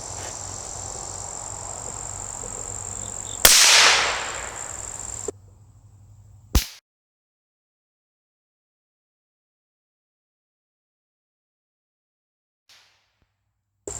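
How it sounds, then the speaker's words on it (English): A single sharp crack from a rimfire rifle shooting a clay target outdoors, cutting through steady insect chirping, followed by a fainter thump and quiet. "We're going to shoot the bear clay now with the rimfire."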